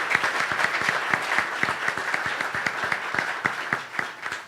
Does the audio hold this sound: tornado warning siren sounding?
no